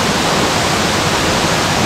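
A Sri Lankan waterfall roars as a steady, dense, loud rush of falling water, continuous and close with no voices.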